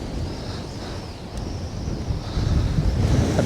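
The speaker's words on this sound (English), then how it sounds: "Don't want the wind taking it over." Wind gusting across an open surf beach, a steady broadband rush with low rumble that swells louder in the final second, with no voices and faint wave wash blended underneath.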